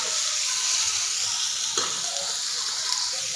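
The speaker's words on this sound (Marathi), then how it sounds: "कांद्याचा कलर चेंज होईपर्यंत आपल्याला कांदा इथं परतून घ्यायचा आहे" Chopped onions sautéing in hot oil for egg bhurji, a steady close sizzle with a faint scrape of stirring partway through.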